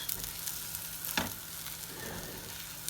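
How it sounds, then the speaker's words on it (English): Quiet, steady sizzle of a vegan lentil patty pan frying until golden, a soft continuous crackle with a brief louder spit partway through. "Beautifully being pan fried, nice and golden."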